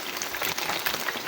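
Fish sizzling and crackling in hot oil in a pan, a dense spattering hiss with small popping bursts, close and steady, no talk.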